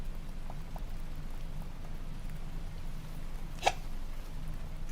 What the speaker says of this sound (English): Sorry, loud hiccup.